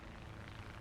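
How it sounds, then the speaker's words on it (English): Aircraft drone overhead in a War Thunder tank battle, a steady, dense engine roar that fills the short moment without a break. "a lot of aircraft in the air"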